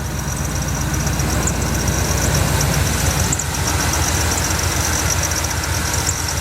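Small Troy-Bilt engine running steadily with a slight miss, a close, even chugging idle with a rhythmic low-frequency pulse and a faint occasional stumble.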